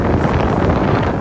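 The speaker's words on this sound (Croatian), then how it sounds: "vani puše ko ludo, znači udar vjetra" Strong outdoor wind buffets the microphone in a continuous, loud, roaring rumble with no break.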